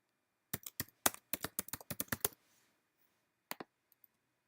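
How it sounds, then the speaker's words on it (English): Quick bursts of typing on a computer keyboard, about a dozen close, crisp key clicks in a fast run, a short pause, then a few more isolated taps, with no one talking. "I'm going to type some text"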